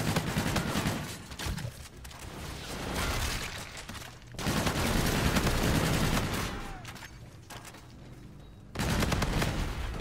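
Rapid automatic gunfire from a gun in a shooter video game, loud close bursts of continuous shots broken by a few short pauses, with a faint voice briefly under it.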